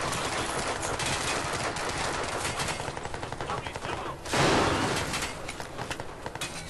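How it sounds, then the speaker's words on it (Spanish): Enemy gunfire rattles at the player in the shooter Crysis 2, with dense, continuous rapid shots throughout and one heavier blast or burst partway through. "¿Quiénes me están disparando?"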